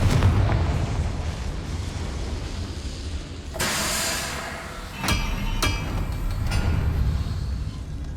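Confringo blasting spell from Hogwarts Legacy over a rumbling game soundscape, one sharp explosive burst in the middle followed by a few quick cracking impacts.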